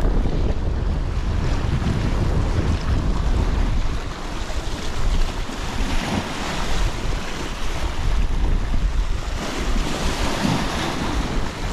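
Strong wind on the Brittany shore during shore fishing for bluefin tuna, a loud steady roar buffeting the microphone with surf washing underneath.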